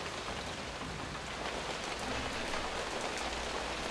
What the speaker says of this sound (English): So here you hear the sound of raindrops on tents.